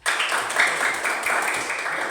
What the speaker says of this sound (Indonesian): Mari kita sama-sama tepuk tangan untuk mereka